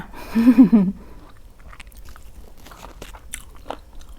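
A woman gives a brief exclamation, then crunchy fried water lettuce with garlic and chili is bitten and chewed in a run of close, crisp crunches.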